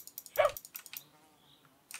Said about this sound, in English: I was going to kill the mad dog